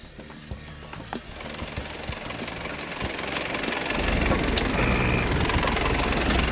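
A rough four-wheel-drive engine rumbles steadily with the rear locker engaged, revving louder toward the end on a Cape York off-road track, with scattered clanks and knocks over the noise.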